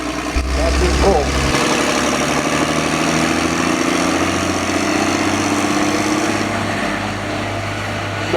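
A tractor at a tractor pull at the Essex County Fair, its loud heavy engine roaring steadily as it drags the sled, with an announcer talking over it throughout.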